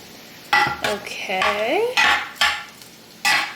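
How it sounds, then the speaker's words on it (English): Vegan rice dressing being stirred in a pot, a spoon scraping and clinking against the metal in several separate close strokes, with a short spoken word. "you're gonna give it a good stirry stir"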